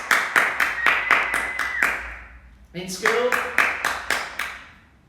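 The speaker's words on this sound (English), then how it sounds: "give them a clap" Children at a primary school assembly clap in a quick, steady burst for classmates' birthdays. The clapping pauses briefly, then resumes, with a voice speaking over the start.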